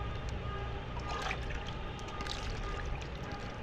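Lemon water is poured into a jar of olives, a steady close trickle and splash of liquid that runs unbroken with no voices.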